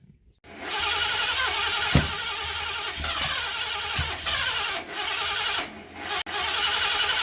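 A 1973 Ford Torino engine runs steadily with a fast mechanical ticking, its timing slightly off, punctuated by a few sharp clicks; no voices.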